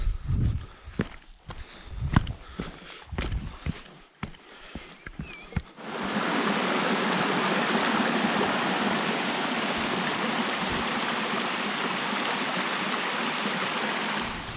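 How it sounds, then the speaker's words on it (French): A mountain river rushes loud and steady close by, its dense broadband roar setting in abruptly after several seconds of crunching footsteps on stones along the bank. "C'est tellement agréable de descendre là avec le bruit de la rivière, le bord de l'eau."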